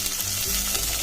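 Chopped green chilli, garlic, ginger and onion sizzle in hot oil in a pan for a Gujarati kadhi, a loud, close, continuous crackling fry with no talk.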